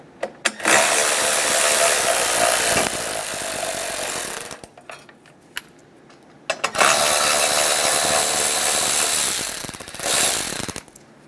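Small 7mm bolts come off a fog light cover on a 2014–2018 Chevrolet Silverado 1500 bumper bracket, heard as two long close bursts of rapid ratcheting from a power tool, with a few sharp clicks and a quiet pause between them.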